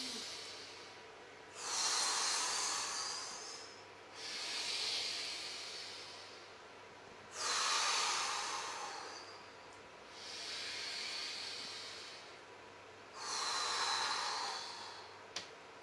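Slow, deep breaths during a breathing exercise at a talk on spirituality and the body, five long airy inhales and exhales spaced a few seconds apart, close and quiet with no talking.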